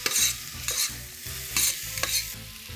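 Diced tomatoes and washed, drained pigeon pea lentils stirred into a hot pan for pineapple rasam, with a steady loud sizzle and repeated scraping stir strokes about every half second, close up and with no voices.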